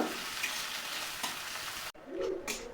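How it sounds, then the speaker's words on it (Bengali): Chopped onions fry in hot oil for aloo chop, giving a steady, close sizzle that cuts off abruptly and then resumes more faintly with a few stirring sounds. "ভালোভাবে পেঁয়াজটাকে বেরেস্তা করে নিব"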